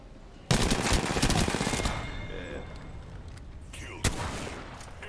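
Shotgun fire in the video game Apex Legends: a loud, sharp blast opens a dense burst of gunfire lasting over a second, then a single clear shot rings out near the end.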